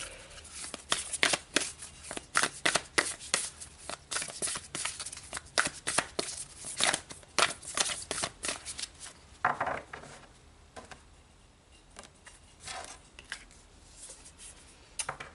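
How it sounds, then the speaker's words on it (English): Tarot cards are shuffled by hand, close and crisp, in quick riffling bursts and soft slides that taper off toward the end, with no talking. "So let's pull an outcome card here."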